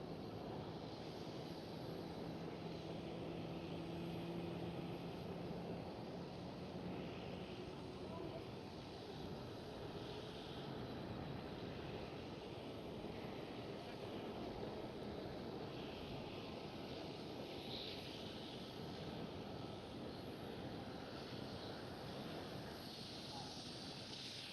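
Transavia Boeing 737 departing Schiphol Amsterdam, a steady broad engine roar that holds loud and unbroken throughout, with faint voices under it.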